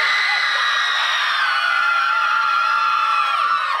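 Group of Berkeley students screaming together at an outdoor scream session, a loud, sustained, piercing chorus of many voices held for several seconds before a few trail off.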